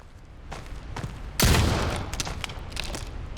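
Gunfire from the video game Soulslinger: Envoy of Death: a sharp, loud blast that rings out and decays, followed by scattered lighter shots and clicks in the background.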